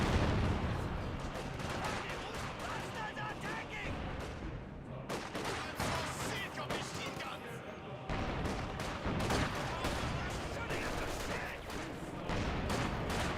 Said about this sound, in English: The barrage in this region.